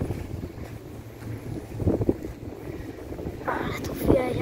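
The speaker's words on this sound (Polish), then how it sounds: "Ale tu wieje." Wind gusting outdoors beneath wind turbines, a rough low rumble of microphone buffeting that swells and eases throughout, with a voice speaking briefly.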